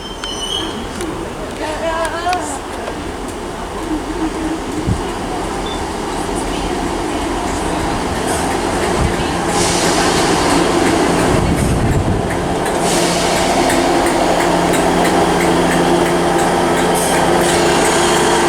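Great Western Railway class 158 diesel unit 158955 pulls into Bristol Parkway station, a loud, close rumble of wheels clattering over the rails, with brief squeals and a swelling roar as it draws alongside the platform.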